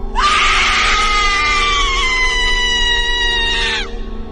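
A woman screams in a horror story as Nyai Mirah: one long, loud, piercing, shrill cry holds steady for nearly four seconds, then cuts off sharply.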